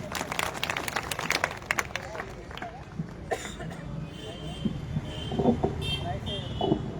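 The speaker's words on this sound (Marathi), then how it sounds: "सर्वांनी एकदा जोरदार टाळ्या वाजवा" Crowd at a political rally in Ahmednagar district breaking into applause and scattered clapping, loud at first and tapering into murmurs and coughs, with a voice speaking over it.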